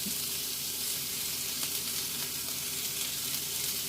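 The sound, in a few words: salted beef browning in a pan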